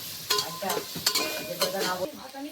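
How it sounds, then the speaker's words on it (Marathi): Turmeric is stirred and fried in a pan while preparing biryani, with a steady close sizzle broken by repeated sharp scraping strokes of the spoon against the pan, no talking. "त्याच्या आधी हे छान असं मिक्स करून घ्यायचं, फ्राय झालं पाहिजे म्हणून."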